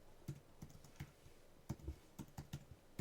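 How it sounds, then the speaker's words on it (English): A password is typed on a computer keyboard in soft, close, uneven keystrokes, with several quick clusters of taps and short pauses between them in a quiet room. "I'm just going to type in my password here"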